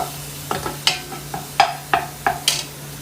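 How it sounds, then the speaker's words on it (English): Garlic lightly sautéing in a vintage aluminum cooking pot for Italian pasta sauce, a faint sizzle under a series of sharp metallic clinks and taps from stirring, spaced irregularly, with no voices. "just lightly saute the garlic, nothing much"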